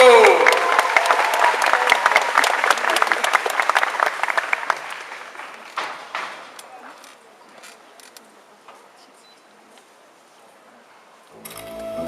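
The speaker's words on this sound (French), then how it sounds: "On l'applaudit très fort" Audience at Japan Expo in France applauds a Stargate cosplay group, loud sustained clapping that fades to scattered claps, with a voice over the applause.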